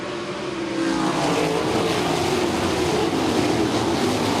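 A pack of ASCS sprint cars at Salina Speedway surges off the green flag, engines rising from a lighter rumble into a loud, dense roar that holds steady to the end.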